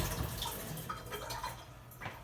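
Water poured from a container onto a sponge and towel during a knife-sharpening setup, a soft close splashing trickle with faint dripping, heard alone without talk.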